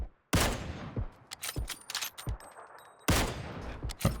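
Gunfire in the battle royale game PUBG: sharp single shots, two loud close cracks and several fainter distant ones spaced irregularly across the span.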